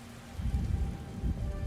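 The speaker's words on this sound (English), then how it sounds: "Oh, rain pattering." Steady rain pattering on a surface, a dense continuous wash of soft drops with gentle surges in intensity, moderately close and without voices.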